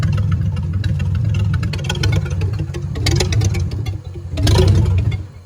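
A Flathead engine fitted with a Power Master alternator runs at a low idle in a hot rod build, a loud, close, steady rumble with mechanical clatter and a brief swell near the end.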